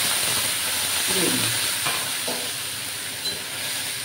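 Spice paste hits hot oil in a pan and fries with a steady, close hiss and sizzle, while a person speaks briefly over it.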